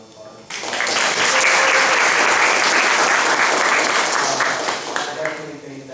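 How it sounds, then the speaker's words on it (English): A round of audience applause bursts in suddenly and holds as a dense, loud clatter of many hands, tapering slightly near the end as a few voices come through. "I want to give another round of applause."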